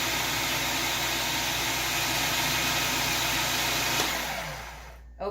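A food processor whizzes white granulated sugar in a loud, steady broadband roar that holds for about four seconds, then winds down and cuts off near the end, with no talking.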